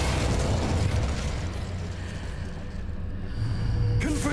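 Fire and blasting spells cast in the Hogwarts Legacy video game, a loud continuous rumbling burst of magical explosions and crackle lasting throughout, with a sharper crack near the end.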